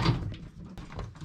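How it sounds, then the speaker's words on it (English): A microwave oven door is pulled open during a door switch check, a quiet close clunk and rattle followed by a second soft latch-like knock, with no talking. "So once you open the door"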